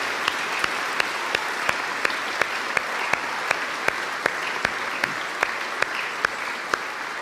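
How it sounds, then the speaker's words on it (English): An audience at a school awards ceremony applauds the behind-the-scenes team with a steady, moderately loud wash of clapping, dotted with sharp individual claps at a regular beat. "can we give, please, a massive round of applause to the team behind the scenes"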